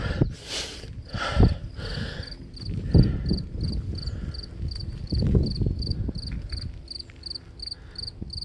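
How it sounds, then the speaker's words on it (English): Crickets trill in a regular pulsing rhythm outdoors, fairly faint, over rustling and soft thumping nearby noises. "The crickets, the birds, the wind."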